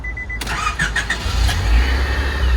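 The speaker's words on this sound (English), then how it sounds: "give it a good little rev" A car engine in a Honda Civic versus Ford Mustang cheap car challenge starts up with a sharp catch, then rises into a brief rough rev, close and loud.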